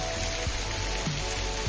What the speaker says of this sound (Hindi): आज तो कंटिन्यू बरसात हो रही है, सुबह 5 बजे से हो रही है, बहुत तेज बरसात हो रही है।